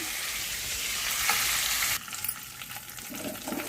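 Eggs and dried ribbon fish fry in oil with a loud, dense sizzle that cuts off abruptly midway, leaving softer crackling and a few utensil knocks.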